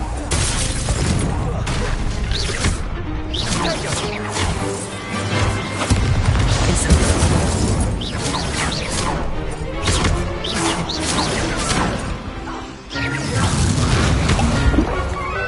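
Confringo explosion spells blast repeatedly during spellcasting combat in Hogwarts Legacy, a dense run of loud crashes, booms and thuds packed close together with barely any letup.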